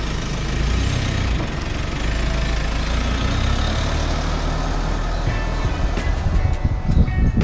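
A Mitsubishi Pajero Sport on the road to a tyre shop, its engine and road noise forming a steady, moderately loud drone heard from inside, with a few sharper knocks near the end.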